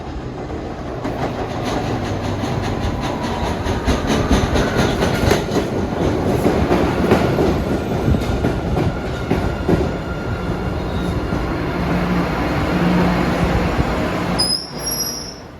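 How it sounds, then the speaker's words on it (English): An MBTA Blue Line subway train pulls into Orient Heights station in Boston, its steady rolling rumble and clickety-clack of wheels filling the platform, with squealing wheels rising near the end as it comes to a stop. "Comes a Wonderland train arriving Orient Heights."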